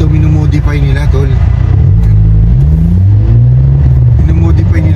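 Modified car with an aftermarket exhaust revving loudly nearby, engine pitch rising and falling in repeated swells over constant rumble, with a voice talking over it.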